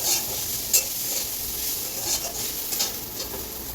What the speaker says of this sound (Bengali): এই যে ভেন্ডি ভাজাটাও হয়ে গেছে